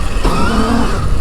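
Surron electric dirt bike pulling away hard on a track at quarter throttle, a loud rising motor whine sweeping upward over about a second, close and steady with no talk.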